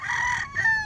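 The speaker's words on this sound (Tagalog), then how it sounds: "Daming manok." Rooster crowing close by in a flooded village among many chickens, one short harsh crow broken into two bursts under a second, with no talk over it.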